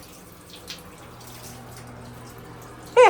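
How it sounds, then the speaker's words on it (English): An older hotel shower head runs with steady, soft hiss of spraying water close by, with a brief louder splash or clatter right at the end. "It's an older shower head. Gets decent water pressure, decent hot water as well."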